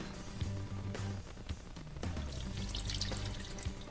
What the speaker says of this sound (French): passer la préparation donc sur notre égouttoir